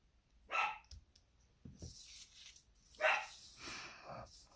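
A small dog yaps in short bursts, two sharp clusters of barks a couple of seconds apart, fairly close, with faint room noise and soft sounds between them.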